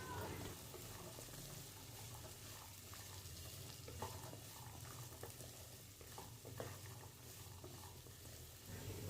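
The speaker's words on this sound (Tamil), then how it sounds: "இப்போ பீன்ஸை சேர்த்துட்டு அதையும் ஒரு நிமிஷம் வரைக்கும் நல்லா வதக்கி எடுத்துக்கணும்" Low, steady sizzling of green beans sautéing in a pan, with occasional stirring scrapes, continuous and fairly quiet throughout.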